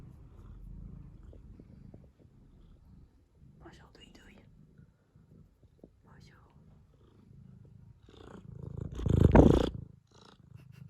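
A cat purrs close by in a low rumbling drone, punctuated by a few soft chirps and a louder swell near the end, while a person speaks quietly to it.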